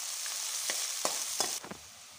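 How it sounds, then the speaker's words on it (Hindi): Two finely chopped onions and three or four green chillies frying in a pan until golden brown: a steady, close sizzle with a few soft stirring knocks and no voices. "इसे हम डालेंगे और प्याज को गोल्डन ब्राउन होने तक भूनेंगे।"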